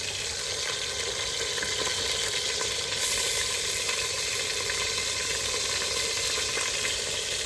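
Onions fry in oil in a home kitchen, a steady dense sizzle and crackle with a faint hiss, unbroken from start to finish and with no one speaking.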